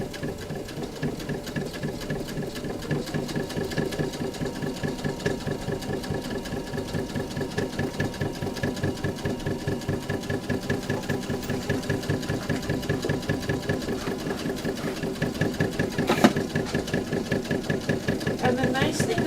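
A sewing machine runs steadily while roughly stitching around appliqué pieces in free-motion work, a continuous rapid mechanical whir and ticking that carries on throughout at a constant pace, fairly close and moderately loud.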